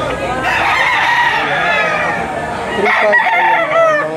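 Roosters crow loudly and repeatedly at a chicken auction market in the Philippines, the calls overlapping and close, with an auctioneer's voice talking over them.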